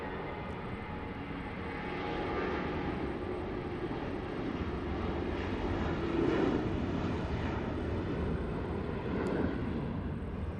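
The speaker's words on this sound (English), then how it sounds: "There goes JetBlue lifting off" A JetBlue airliner taking off at Los Angeles, a steady distant jet roar that swells gradually and holds, heard alone outdoors.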